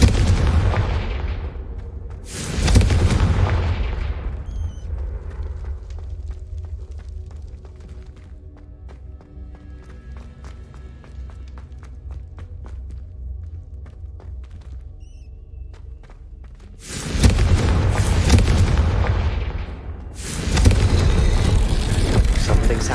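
Loud Confringo blasting-spell explosions in Hogwarts Legacy, a heavy boom near the start and two more near the end, with a quieter stretch of low rumbling and faint tonal game sounds between them.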